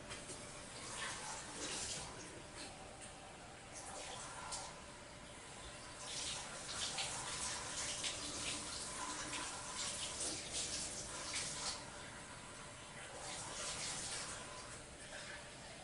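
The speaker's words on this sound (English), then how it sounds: "we're going to take our measuring cup and we're going to get 6 cups" Warm water runs from a tap into a measuring cup, a steady gushing flow at moderate distance that swells and eases in bursts over about sixteen seconds, with no talk over it.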